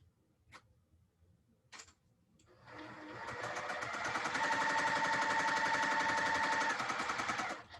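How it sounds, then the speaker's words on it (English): Sewing machine stitching fabric strips together for small quilt blocks, starting with a few clicks before a steady, fast mechanical rattle runs for several seconds, close and alone. "Now I'm going to sew these 4 strips together like this."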